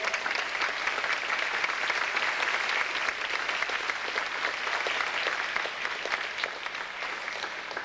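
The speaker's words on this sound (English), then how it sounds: "Let's give them a little round of applause." An audience applauds teachers, a dense, steady burst of clapping that holds at even strength throughout, with no talk over it.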